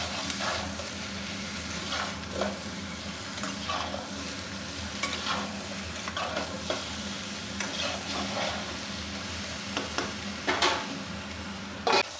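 Mixed vegetables fry in a pan with a steady, close sizzle, broken by frequent sharp scrapes and stirring clatters of a spatula.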